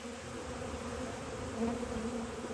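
A dense, steady buzz of a honeybee swarm close by, continuous and slightly rising in intensity, with no voices.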